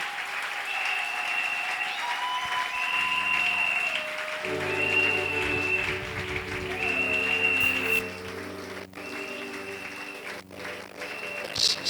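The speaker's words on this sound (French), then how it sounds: "on acclame pour le Seigneur" An evangelical church congregation claps in sustained, dense applause for several seconds, with music tones and voices mixed underneath before the clapping thins out.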